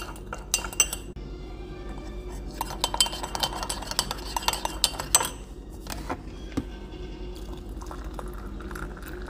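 Spoon clinking against a coffee cup while stirring sugar into Turkish coffee, a series of light metallic taps and scrapes, close and fairly quiet, over a steady low background hum.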